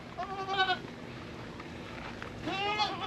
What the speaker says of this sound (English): The goats, the young goats here are doing wonderful.